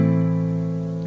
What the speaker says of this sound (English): And then you play all bottom 5 strings. It sounds like this.